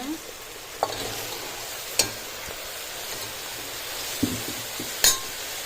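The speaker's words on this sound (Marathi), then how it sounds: "आता भितर हे पळया हे मशरूम घालता कट केलेले." Cut mushrooms go into a pan of frying tomatoes for a Goan mushroom masala curry, with a soft steady sizzle, a few clinks of a spoon against the pan and faint stirring, while a person talks quietly.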